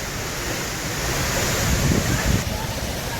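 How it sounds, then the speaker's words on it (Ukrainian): Steady, loud broadband roar of a waterfall dropping from a cliff in Oregon, with wind gusting over the microphone throughout. "І зверху падає водоспад."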